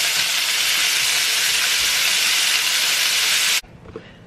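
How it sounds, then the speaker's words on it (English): Pork searing in a very hot pan for a Hokkien noodle stir fry, a loud, dense sizzle and hiss that runs steadily before cutting off abruptly near the end, leaving quiet room noise. "It's nice and sizzling."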